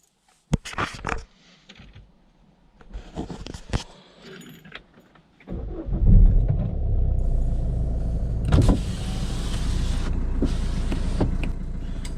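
A Peugeot HDi diesel engine idles steadily after an oil and filter change, a constant low rumble following a few key jangles and clicks, with a brief louder bump partway through.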